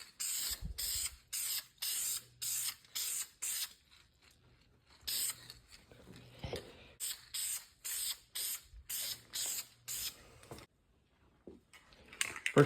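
Repeated short bursts of spray paint from an aerosol can coating a brand-new valve cover for a built Mustang engine, about a dozen hissing passes with brief gaps, close and fairly loud.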